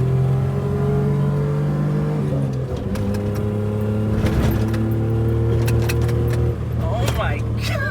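Small kei truck engine revving hard through the gears with a wheelspin in third, rising whine that drops at each shift, loud and close, with a man exclaiming over it.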